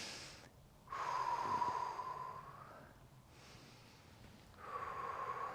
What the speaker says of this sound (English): Let's take a big deep breath for one more.